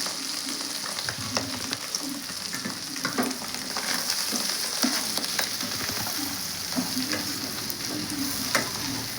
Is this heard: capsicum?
yes